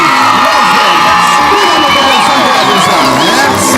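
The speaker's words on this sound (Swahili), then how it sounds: "Tafadhali makofi tafadhali." Schoolchildren cheer and shout loudly as a crowd at the commissioning of new classrooms at a Kenyan primary school, a dense, continuous roar of young voices with whoops close by and faint clapping mixed in.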